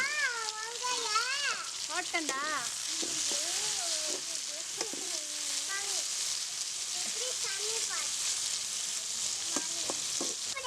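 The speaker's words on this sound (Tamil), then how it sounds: "தக்காளி பற்றி நல்லா வதங்கி வெங்காயத்தை கூட பூண்டு கூட நல்லா மிக்ஸ் ஆகிருக்கும்" Tomato, onion and garlic sizzle softly in a pan with a steady frying hiss, while someone talks over it throughout and a voice briefly chimes in.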